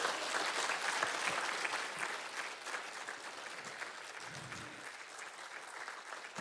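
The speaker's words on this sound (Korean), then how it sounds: "저와 동의하시는 분 있다면 박수 한번 다시 한번 부탁드립니다" An audience at a gayageum talk concert applauds, sustained clapping from a crowd that gradually softens and thins over several seconds, heard at a moderate distance.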